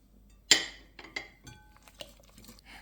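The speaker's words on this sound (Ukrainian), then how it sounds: "та розтоплене вершкове масло та знову все перемішаю" Apple pancake batter with grated apple and melted butter is mixed in a bowl: one sharp clink is followed by a few lighter taps and scrapes of the utensil, close and fairly quiet.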